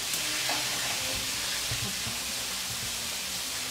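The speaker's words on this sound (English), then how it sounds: "Bruce, if you can man the frying" Food sizzles steadily in a hot pan while Mongolian beef is being cooked, a continuous close frying hiss with faint stirring scrapes and no talking.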